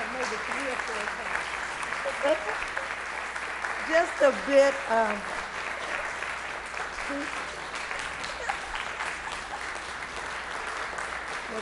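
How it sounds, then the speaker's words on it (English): An audience at a city council meeting applauds honorees, a steady patter of clapping that runs throughout while a few voices talk over it, one rising briefly above the clapping. "Let's give them a round of applause."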